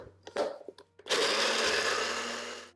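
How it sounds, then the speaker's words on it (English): A small blender blending vegan cheese sauce; after a few short clunks and taps, the motor starts and runs loud and steady, whirring close up for nearly two seconds with no talk. "So hopefully you have a smaller size blender to make this delicious cheese sauce."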